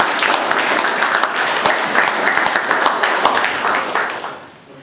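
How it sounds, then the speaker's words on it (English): Audience applause at a Toastmasters club meeting, a loud, full burst of clapping from a room of members that sustains and then fades away at the end. "A big round of applause to the man."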